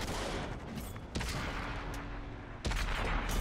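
Tank cannon fire in the World of Tanks video game, with two heavy booming shots over a dense rumbling battle background.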